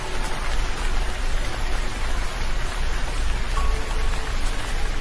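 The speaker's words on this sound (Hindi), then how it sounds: "लेकिन कल भी कितनी बारिश हुई, आज भी हो रही है" Steady rain pours down in a Hindi animated children's story, a dense, even hiss of drops striking surfaces that continues unbroken with no voices.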